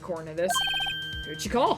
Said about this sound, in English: I heard a phone ring just now, one of those newfangled ringtunes.